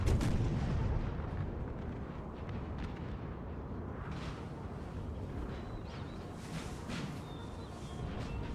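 Artillery cannons firing in the Napoleonic-era battle game Napoleon Total War, a 4v4 battle at Friedland, heard as a dense, continuous rumble of distant booms and musket crackle with brief high whistles, sustained throughout without talk.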